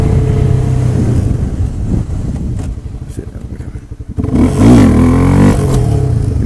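A Honda CBR250R motorcycle engine revs loud and close during a wheelie, surging, dipping briefly, then climbing again with a rough roar.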